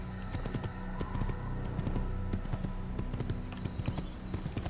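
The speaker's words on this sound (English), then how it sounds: "Get on the horse." Horse hooves clip-clop steadily through an Assassin's Creed game scene, a close, rhythmic patter of repeated hoofbeats with no voices over it.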